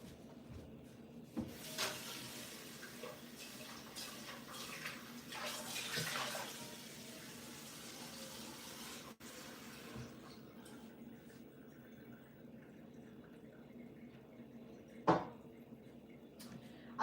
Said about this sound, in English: But let me rinse it off.